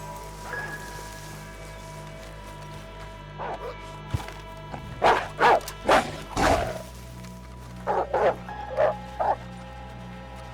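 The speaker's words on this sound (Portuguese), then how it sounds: "Um lobo enorme estava me vigiando esse tempo todo." A large wolf in the video game Red Dead Redemption barks in several sharp bursts over a low steady background hum, with a faint whine early on and louder barks in the middle.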